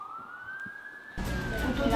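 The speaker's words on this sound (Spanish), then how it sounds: "¡Hay más dos sirenas! ¡Ahí afuera!" Police car siren sounding just outside a house near a police station, a single rising wail that holds steady and then swells louder as more siren noise and commotion join in.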